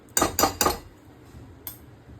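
Three quick, bright clattering bursts followed by one lighter rattle as raw peanuts are poured into a small kadhai for roasting salted peanuts, close and crisp against a quiet background.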